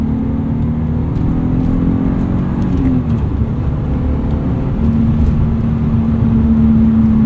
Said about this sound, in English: Rev matching, just mat it to the floor. Gear shifts, push it forward into third.